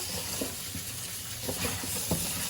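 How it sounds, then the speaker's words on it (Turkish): Soft sizzling and bubbling in a pot, with small irregular pops over a low steady hiss. "Şu an fasulyeler bıcıcı yapıyor."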